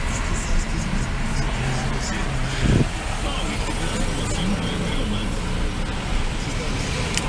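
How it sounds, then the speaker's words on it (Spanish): Slow, congested street traffic near Plaza Acuario in Veracruz during Semana Santa, a steady roar of car, bus and motorbike engines that stays close and constant throughout, with people talking over it. "Hay mucho tráfico, todo está muy lento"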